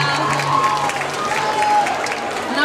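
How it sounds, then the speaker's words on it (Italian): An audience applauds during the final evening of a stage show with games. Loud, continuous clapping and crowd noise fill the whole short stretch. "Un applauso, dai, un applauso"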